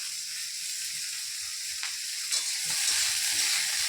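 Snake gourd pieces for a mustard-paste curry hit hot oil in a pan, giving a steady broadband sizzle with a brief sharper burst partway through and faint stirring scrapes underneath.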